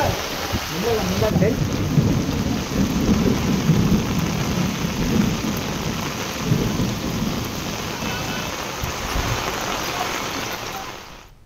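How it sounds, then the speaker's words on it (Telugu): Heavy rain pours steadily in Kamareddy, Telangana, while low thunder rumbles beneath it, a dense, continuous roar that fades slightly at the very end. "రాత్రి నుంచి ఎడతెరిపి లేకుండా వర్షం పడుతోంది"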